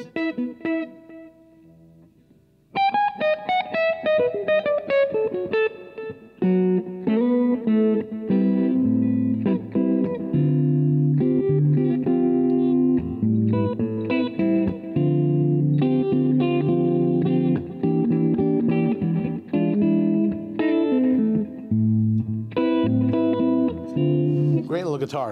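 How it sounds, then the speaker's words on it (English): A 1979 Gibson Les Paul Custom on its neck humbucker with distortion plays chords and riffs in a warm, thick tone, starting quietly, then loud and sustained with short gaps between phrases. "Humbucker with distortion on, yeah. Neck position."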